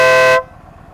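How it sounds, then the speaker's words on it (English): A Denali Sound Bomb air horn mounted on a 2007 Yamaha V Star 1300 Tourer motorcycle gives one loud, close, steady blast that cuts off sharply, leaving a quiet idle rumble behind it. "So got a Denali sound bomb air horn, much better quality than the stock horn"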